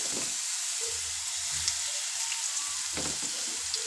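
Ridge gourd pieces sizzle and fry steadily in a pan, a continuous close hiss with a few soft stirring clatters and small crackles throughout.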